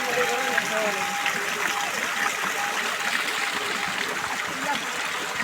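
Hot water pours steadily from the 108 spouts at Tribeni Dham in Hetauda, a continuous splashing rush with people talking faintly underneath.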